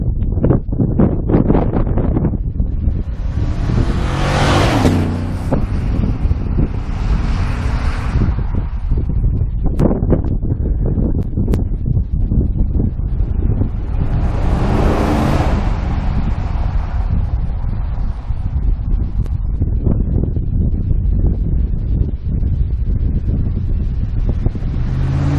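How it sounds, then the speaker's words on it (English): A modified Chevrolet Silverado pickup's exhaust rumbles past outside on a road, swelling loud and fading twice, with heavy wind buffeting the microphone throughout. "hopefully we'll still be able to get a good idea of the exhaust sounds"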